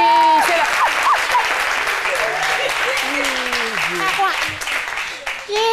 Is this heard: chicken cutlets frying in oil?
no